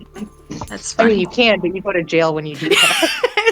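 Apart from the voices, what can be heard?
dog whimpering in the background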